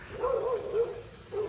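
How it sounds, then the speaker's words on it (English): In a backyard vegetable garden, a dog gives a few quick barks and yips in short bursts, moderately close. "Sorry, my dog."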